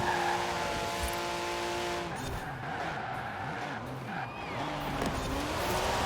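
A fast race car in the Forza Horizon 4 racing game roars as it accelerates, its engine note climbing and shifting through gears while tires screech, loud and continuous throughout.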